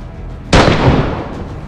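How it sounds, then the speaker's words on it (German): A single sharp, loud gunshot in the video game DayZ Standalone bursts out over steady background noise and rings off in a decaying tail. "Oh, ich hab Schuss gehört."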